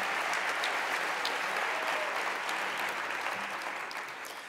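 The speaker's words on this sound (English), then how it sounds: "Let's give them a round of applause" An audience claps together in a university theater, a dense, sustained wash of applause heard from within the crowd that stays loud and even before tapering slightly at the end.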